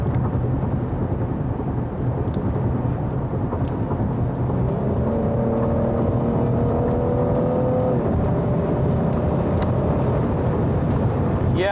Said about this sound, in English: Let's see how it downshifts.